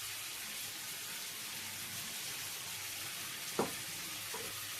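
Chicken frying in a pan with a fried paste of ginger, garlic, onion, tomato and green chilli, a soft continuous sizzle with one sharp clack of a utensil near the end, no talking.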